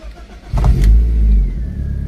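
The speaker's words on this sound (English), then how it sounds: "it does have a very, very nice sounding engine" A BMW Z3 roadster's engine revs up from a low idle into a loud, sustained mid-pitched roar, held close by for well over a second with slight fluctuations, no talking.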